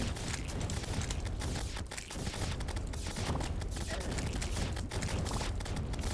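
The Magnet Sphere weapon firing in the Terraria video game makes a dense, continuous crackling barrage that holds a steady, loud level throughout without pause.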